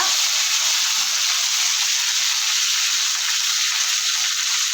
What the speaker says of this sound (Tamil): ஒரு கைப்பிடி அளவுக்கு மல்லி இதை சேர்த்து ரெண்டு செகண்ட் இப்படி நல்லா வதக்கி விட்டுக்கலாம்